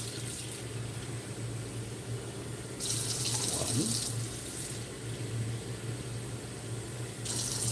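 Water runs from a kitchen tap and pours into a pot holding two cups of rice, three cupfuls added in a steady splashing stream over a low background hum.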